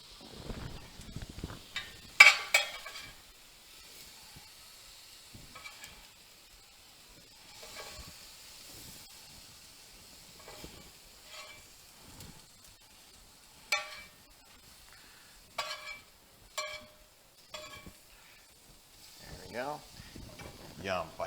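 Steak for fajitas sizzles in a pan with a steady soft hiss, broken by intermittent sharp clatters and scrapes of a utensil moving the meat.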